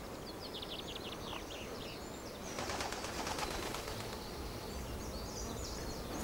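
Ravens calling near a wild boar carcass outdoors, repeated calls over steady background noise, fairly distant and moderately faint, with no talking.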